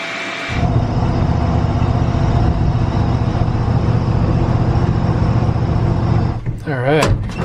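Steady loud hissing blast of sandblasting on a rusty Ford hood bracket, continuous for several seconds before cutting off, with brief voice sounds at the end.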